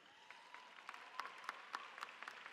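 Graduation audience applause at a high school commencement held at Nova Southeastern University, faint and distant, with scattered individual claps standing out from a soft, steady hall wash.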